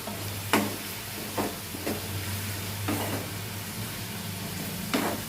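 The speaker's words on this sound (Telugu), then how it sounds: "ఇప్పుడు మనం ఇందులో పచ్చిమిరపకాయలు వేసుకుందాం." Green chillies frying with onions in a pan, a steady low sizzle broken by several sharp scraping stirs of a spoon at irregular intervals, close and moderately quiet, with no talking.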